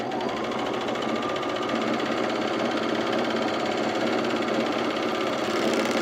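Overlocker sewing machine stitching the two short ends of a pair of leggings together, a steady, continuous mechanical whir that runs loud and unbroken throughout with no talk.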